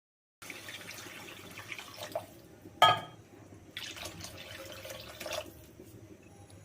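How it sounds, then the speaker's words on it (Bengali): Water is poured into a pan of fried masala while chicken Maggi noodles are cooked, giving a steady close liquid trickle and splash with one louder clatter partway through and no talking. "এবার এতে দিয়ে দেবো পরিমাণ মতো জল।"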